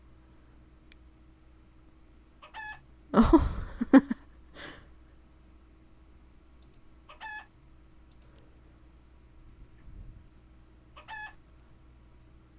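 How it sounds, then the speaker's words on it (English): Chickens cluck in short quiet bursts over a steady low hum, with one louder flurry of squawking and clattering near the start and scattered soft clucks after it. "Did I see your chicken?"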